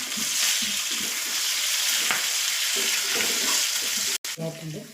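Chopped green chilies sautéing in a pan for brinjal curry, a loud steady frying sizzle with occasional stirring strokes, close up, briefly cut off near the end.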